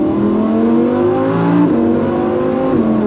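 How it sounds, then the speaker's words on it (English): A Lamborghini V10 engine drones from inside the moving car with the window open, a loud steady hum that rises and shifts in pitch as it pulls, with no talk. "you hear the V10. I mean, you hear it quite a lot with the window open."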